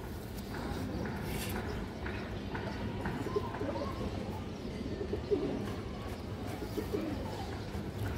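A lively pigeon coos amid a noisy, crowded market-like din, with scattered low calls and occasional clip-clop sounds and voices talking throughout.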